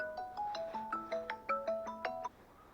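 A melodic mobile phone ringtone plays out of doors at night during a metal-detecting dig, a repeating sequence of bright electronic tones running for a couple of seconds before cutting off, moderately loud with no talk.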